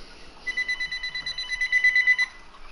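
A phone rings in a rapid, repeated electronic trill pattern lasting about two seconds, fairly loud and close, with no talk over it.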